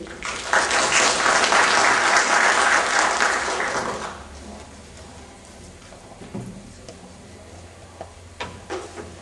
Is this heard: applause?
yes